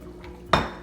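A spoon scrapes and clinks once against a cooking pot as onion and seasonings are mixed in for Jamaican stew peas with pig tails, a single close, sharp stir.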